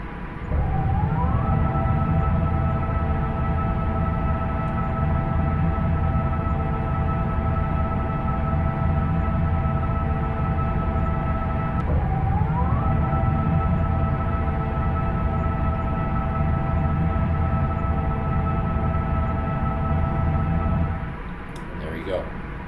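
Wing flaps retract on an airliner in the GeoFS flight simulator game, a mechanical whine rising twice in pitch over a continuous loud engine drone before the sound drops away near the end.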